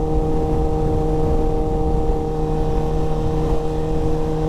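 A car approaching in the rain while doing rolling burnouts, its engine a steady, loud tonal drone with constant broadband road and rain noise, holding even throughout without clear revving peaks.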